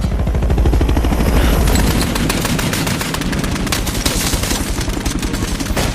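Rapid bursts of gunfire from an action film shootout, loud and dense, with rattling automatic fire that keeps coming throughout, and no talk.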